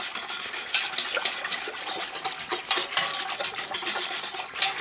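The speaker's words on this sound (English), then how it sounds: "give it a little whisk" A whisk clinks and scrapes briskly through turkey brine in a bowl, a steady run of rapid metallic taps and swishes up close, with no talking.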